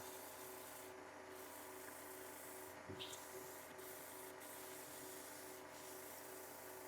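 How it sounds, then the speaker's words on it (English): A wooden coffee cup being sanded with 180 grit sandpaper gives a faint, steady, continuous rubbing hiss with a few brief scuffs and no talk. "This is 180 grit that I'm using here."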